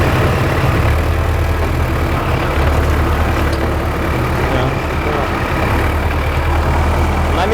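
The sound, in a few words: tractor engine running while driving at low speed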